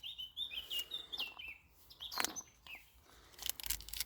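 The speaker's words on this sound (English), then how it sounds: "Like bird music in the background, flowers." Small birds chirp and tweet in the background, quick high calls repeating outdoors at moderate distance with brief gaps between them.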